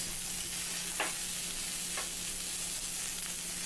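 Garlic and ginger sizzle in a pan with a steady, dense frying hiss, marked by two soft stirring scrapes about a second apart.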